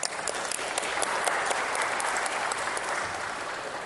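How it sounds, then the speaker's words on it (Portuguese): Sustained applause from the attendees of a Brazilian agriculture committee session, a steady dense wash of clapping from a crowded room with no break throughout. "Pode bater palmas."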